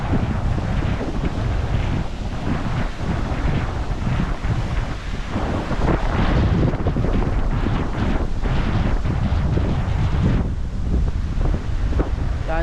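Big waves surge at Tanauan Baywalk in Batangas in the dark early morning before heavy rain, with water already over the road. Loud, continuous roaring wind buffets the microphone over churning surf.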